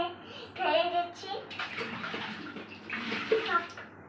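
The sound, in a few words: water being filled into a container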